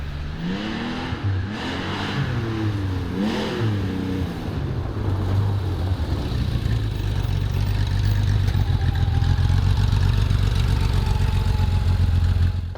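Tuthill Safari Porsche 911 rally car engine on an icy hill stage, loud and close, rising and falling through several revs before settling into a strong steady drone, no talking.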